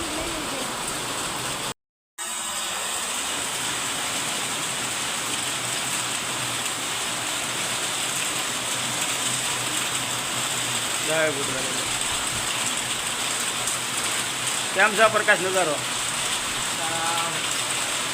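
Heavy rain pours down steadily at a Meldi Ma temple at Khadiya, a dense close hiss throughout, while people talk briefly over it.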